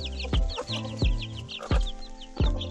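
A mother hen named Candy clucks near her chicks in four sharp, evenly spaced calls, close and loud, with faint peeping from the chicks in between.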